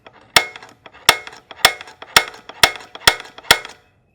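A hammer strikes a punch on a metal knife blade seven times in a steady rhythm, each blow a loud, sharp, ringing metallic crack, close up with no talk.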